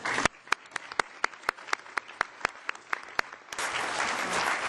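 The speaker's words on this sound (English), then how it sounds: "I think we all have to give her a warm applause, with Regine Hollo from Meine Landwirtschaft" Conference audience at the EU Parliament claps, starting as a dozen sharp, separate claps and swelling into dense, steady applause near the end.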